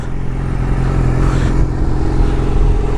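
A warmed-up Yamaha R6 sports bike engine runs steadily at close range, a dense continuous rumble with a slight swell midway and no talk over it.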